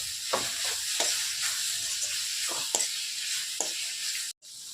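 Onions sautéing in a pan with a little salt for chicken kurma, a steady soft sizzle broken by a few scraping stirs, close and alone, with a brief cut near the end.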